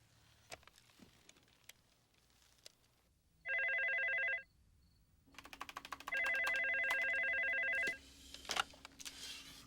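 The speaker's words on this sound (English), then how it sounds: "You pick up the phone and you dial." A telephone is dialed, with several short clicks and beeps, then rings in two long, loud electronic trills separated by a pause, over a quiet room.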